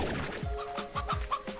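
Chickens in the video game Slime Rancher cluck in a quick run of short, close clucks, five or six bursts over less than two seconds, over a steady electronic hum.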